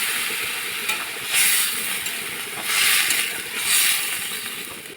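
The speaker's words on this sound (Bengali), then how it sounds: "এবার আমি এর মধ্যে পরিমাণ মতো জল দিয়ে দেবো" Water poured into a pan of spiced vegetable curry sets off a loud, broad steam hiss and sizzle that swells in three strong waves; no voices.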